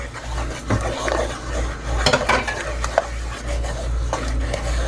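A spoon scrapes and clinks around a pot of meat pizza sauce for deep-dish pizza, with irregular stirring rubs and a few sharper knocks against the sides, close and fairly loud over a low steady hum.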